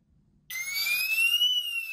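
A Homematic IP home alarm siren starts abruptly after a door is opened, blaring a loud, steady, piercing electronic tone that holds without pause indoors.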